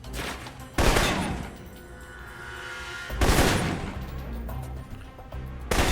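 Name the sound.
assault rifle gunfire in video game Alpha Protocol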